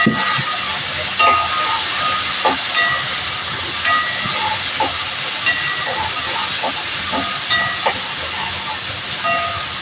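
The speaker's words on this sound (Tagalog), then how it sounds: "Gisa muna natin siya para lumabas yung yung katas ng kamatis" Tomatoes sauté in a hot pan, giving a loud, constant hissing sizzle with a few soft knocks from a stirring utensil, and no voices over it.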